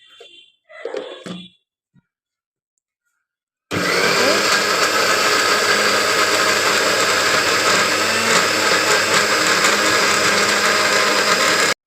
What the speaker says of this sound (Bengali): পেঁয়াজ কুচি করে এখন এগুলোকে ব্লেন্ড করতে হবে। এখন ব্লেন্ডারে দিয়ে দিয়েছি।